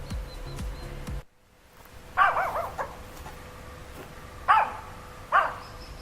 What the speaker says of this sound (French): je voulais être discrète et il y a un chien qui vient de me repérer.